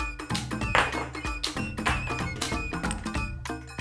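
A toy shell-ejecting gun is cycled, producing a quick series of close plastic clicks, taps and hollow thunks as the action slides and a shell pops out.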